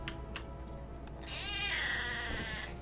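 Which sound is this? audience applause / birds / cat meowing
cat meowing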